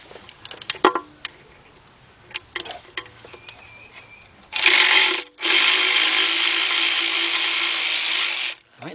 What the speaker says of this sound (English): Let's get our cordless ratchet.